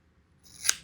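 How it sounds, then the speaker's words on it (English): A single crisp snip of scissors, close and fairly loud, rising briefly and cutting off in a quiet room with no talk. "my magic scissors"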